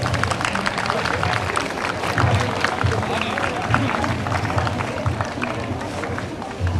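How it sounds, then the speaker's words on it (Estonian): A crowd at an Estonian breeding-livestock show applauds steadily for several seconds, a dense, even wash of many hands clapping with no voices standing out. "võib teha neile aplausi."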